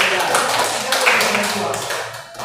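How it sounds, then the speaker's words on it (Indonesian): A group in a classroom quiz session claps hands together, a steady burst of applause with a person speaking over it. "Mari kita tepuk tangan untuk semua."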